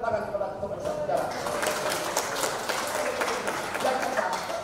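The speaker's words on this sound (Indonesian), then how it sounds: "Kita berikan tepuk tangan kepada ketum bersejarah." An audience at an Indonesian community gathering claps for a speaker, a moderate, steady patter of applause with some talk mixed in underneath.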